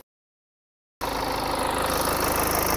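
A car engine runs at idle just after being started following an oil change, a steady close rumble with a faint rhythmic knock that begins abruptly after a second of silence.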